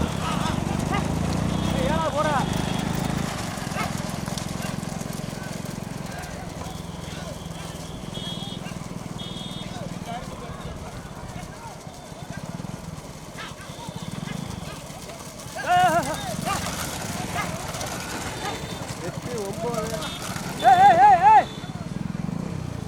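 Bullocks pull carts at a rural bullock cart race in Tamil Nadu, and hooves clatter steadily under loud crowd noise and shouting. Engine and horn-like bursts come near the end.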